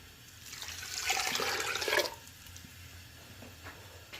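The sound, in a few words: pouring water into pot with meat and lentils for kabab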